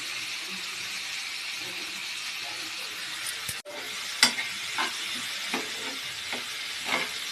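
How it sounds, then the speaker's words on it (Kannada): Tomatoes sautéed in hot oil and stirred in a pan, a steady close sizzle with repeated scraping strokes of a spoon, one sharp clank partway through. "ಟೊಮೆಟೊ ಅದೆಲ್ಲ ಮಿಕ್ಸ್ ಮಾಡಿ ಚೆನ್ನಾಗಿ ಎಣ್ಣೆಯಲ್ಲಿ ಬಾಡಿಸಿ"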